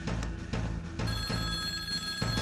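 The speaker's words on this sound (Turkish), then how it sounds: "Telefon çalıyor." A telephone bell rings in quick repeated trills, loud and close, filling the short clip without pause.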